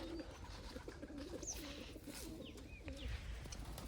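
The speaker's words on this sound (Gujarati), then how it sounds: "કબૂતર બધા આવવા માંડ્યા છે" Soft pigeon coos repeat steadily over a low background hum, with a few faint higher bird chirps scattered through.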